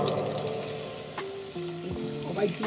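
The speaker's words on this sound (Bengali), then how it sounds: "এইভাবে আমাদের ভেজে নিতে হবে বাঙালির সস্তায় মজাদার কাবাবের রেসিপি" Small shrimp kebabs frying in a pan, a steady close sizzle with a few soft tonal clinks and stirring touches toward the end.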